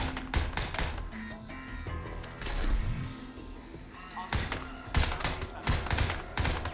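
Rapid gunfire rattles in bursts during a Crysis 2 video game session, sharp repeated shots with clinking, mechanical game effects packed closely together and loud throughout, with brief gaps between volleys.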